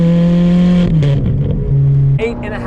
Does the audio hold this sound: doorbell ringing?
no